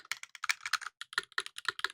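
Typing on a keyboard with a brass, low-pitched space bar: a quick run of crisp key clicks in uneven bursts, with deeper, heavier thumps from the space bar between them, close and alone.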